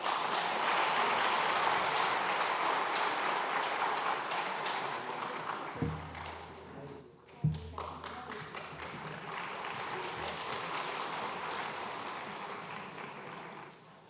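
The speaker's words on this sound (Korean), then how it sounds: "다시 한번 박수하겠습니다." A church congregation applauds during a Sunday service, with dense sustained clapping that fades, pauses briefly, then swells again into a second loud round, heard alone without talk.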